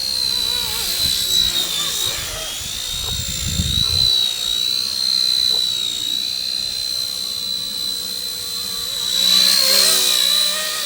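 A WLtoys V931 AS350 RC helicopter whines steadily, its tail motor straining with a high pitch that surges louder near the end, with brief rumbling bursts underneath.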